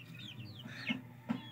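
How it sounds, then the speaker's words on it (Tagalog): Backyard chickens clucking softly, a few short clucks and chirpy calls with two sharper peaks, faint and close with no talking over them. "So meron tayong dito mga manok"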